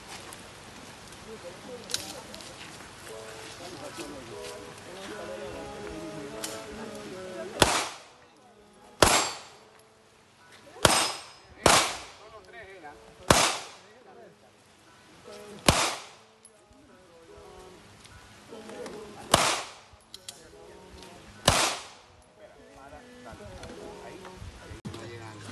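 Pistol gunshots ring out at an outdoor shooting course, about ten sharp, loud cracks spaced a second or two apart, each with a short ringing tail. Spanish-speaking voices and background noise continue between the shots.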